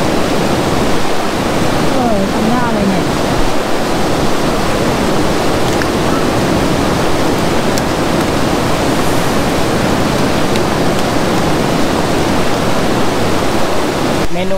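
Waterfall beside a restaurant near a camper-van site at Khao Yai, Thailand, a steady loud rushing wash of falling water running throughout with no break.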